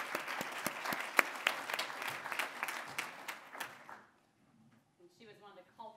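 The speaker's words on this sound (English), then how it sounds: "If we could please give her a round of applause for all" Audience at a 2013 health and wellness event applauding: lively close clapping for about four seconds that cuts off abruptly, followed by a brief hush and a voice starting to talk.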